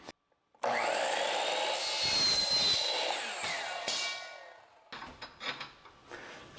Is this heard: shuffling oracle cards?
no